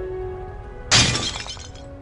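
A priceless ancient vase shatters in the Harry Potter 2 PC game, one sudden crash of breaking ceramic followed by a short scatter of falling shards over a quiet background hum.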